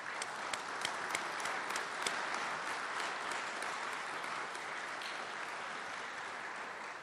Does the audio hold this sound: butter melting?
no